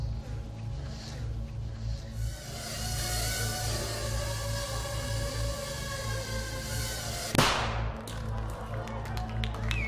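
A tiny shaped charge of 3 grams of explosive goes off as a single short, sharp crack late in the clip, standing out over a steady background hum.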